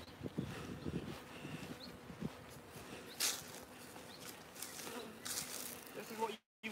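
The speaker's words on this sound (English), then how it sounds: "You can see the bees are still hanging out the front." Honey bees buzz steadily around a hive entrance, a close, continuous insect drone with occasional louder passes near the ear, outdoors on a cooler day.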